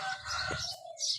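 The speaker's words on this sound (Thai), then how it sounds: "เสียงไก่ขัน" A rooster crowing in a rural setting with other birds, a short raspy call with a brief burst of wing flapping, fairly close and moderately loud.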